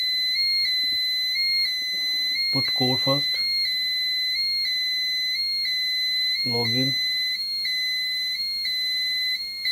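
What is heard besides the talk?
Pyronix EURO 46 alarm sounding after a confirmed alarm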